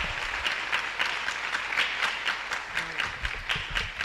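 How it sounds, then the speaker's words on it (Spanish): Congregation applauding at the close of a Catholic Mass in a parish church in Asunción, a steady rhythmic clapping with regular loud pulses that carries evenly from start to finish, fairly distant, with a low murmur beneath. "Fuerte aplauso para el Señor."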